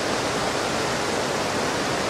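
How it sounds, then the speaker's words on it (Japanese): Joren Falls, a waterfall in Izu, Japan, roars as a steady, dense wash of falling water, loud and close with no break across the short stretch. "これが常連の滝ですね。"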